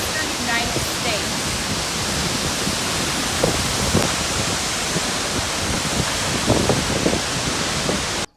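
Large waterfall in Tennessee roars as a steady, dense wash of rushing water, loud and unbroken, with faint indistinct voices underneath before cutting off abruptly at the end.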